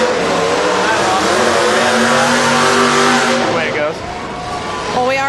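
Cars at a destruction derby race roar loudly and continuously, engines revving with rising pitch sweeps near the end, while voices talk over the din.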